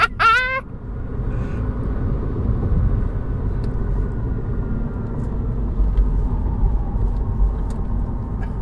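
An electric MINI Cooper SE with 181 horsepower accelerates, heard from inside as a steady low road rumble and faint motor whine. A short rising electronic chirp sounds at the start, with no voices.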